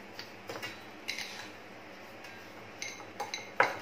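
A spoon scrapes and clinks against a bowl while fruit shrikhand is stirred, producing scattered soft taps and sharp clinks in a quiet room.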